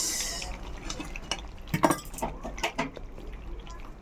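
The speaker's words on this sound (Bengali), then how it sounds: "এবার আমি নাড়িয়ে নিচ্ছি" A spoon stirs chicken curry in a pot, giving a few soft wet scrapes and clinks that are sparse and fairly quiet.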